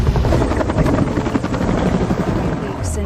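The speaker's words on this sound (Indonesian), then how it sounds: "sebuah helikopter evakuasi datang dan menyelamatkannya." A rescue helicopter's rotor chop in a film thrums steadily and loudly throughout, with a dense low rumble and no clear pauses.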